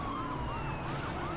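Police sirens wailing in the racing video game Need for Speed: Most Wanted during a cop ambush, overlapping sweeping tones over loud engine rumble, with no talking.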